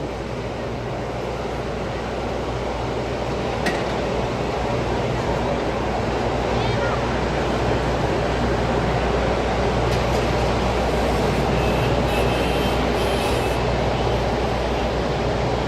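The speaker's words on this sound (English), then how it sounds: "All that noise you're hearing, those are fans, those are ventilation systems." Ventilation fans at the World Trade Center in New York City produce a constant loud roaring whoosh with a steady low hum, unbroken throughout, with faint city sounds on top.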